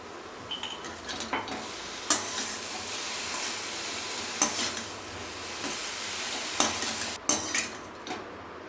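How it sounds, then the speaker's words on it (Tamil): Radish-stuffed chapati shallow-fries in a pan with a steady sizzle, broken by repeated scrapes and clinks of a spatula turning and pressing it, close and without talk. "இப்போ இதை ஷாலோ ஃப்ரை பண்ண போகிறோம்"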